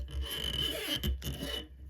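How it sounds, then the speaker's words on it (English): Silver Mylar tinsel wound tightly under heavy tension around a fly-tying hook shank, giving a close, dry rasping crinkle with short scratchy bursts. "You can hear the tinsel reacting."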